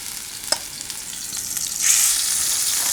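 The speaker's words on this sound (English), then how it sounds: "This is going to sizzle pretty good." A light clink, then a loud, close sizzle of food searing in a hot pan that swells and holds steady.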